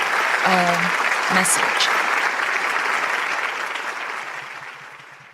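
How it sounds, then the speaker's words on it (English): Warm audience applause at a youth blessing festival, steady dense clapping that fades gradually toward the end, with a brief spoken word from a voice at the start. "again a warm round of applause to former Congressman Dan Burton and his wife Sammy Burton"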